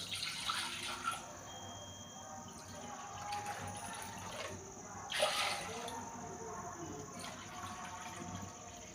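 Water poured from a small bowl into a pot for rice-flour modak dough, a faint splashing gush with a couple of brief louder spurts over a quiet kitchen background.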